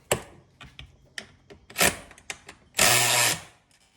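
Short bursts of a power tool snugging lock nuts on lower door panels of a Can-Am Maverick X3 Max, several brief whirs with one longer, louder run near the end, close up with no talk.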